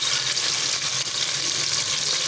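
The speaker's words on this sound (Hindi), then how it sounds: "फ्राई होने के लिए छोड़ देंगे, फ्राई होते रहेंगे" Bitter gourd pieces, just washed and drained, sizzle in a hot pan with oil, a steady bright hiss of frying that runs evenly throughout without talk.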